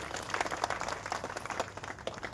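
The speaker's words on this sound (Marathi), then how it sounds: "आणि हा विनाकार्याचं सर्वांनी टाळ्या वाजून कौतुक करा." An audience at a religious pilgrimage procession gathering claps in a dense, quick patter of applause, fairly faint and distant throughout.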